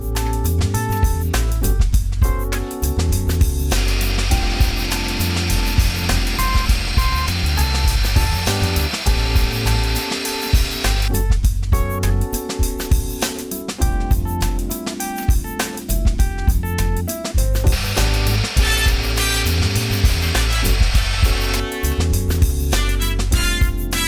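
Wooden bottom panel of a tool drawer being cut by saw, a continuous loud buzzing cut with brief pauses between passes, close and alone without talk.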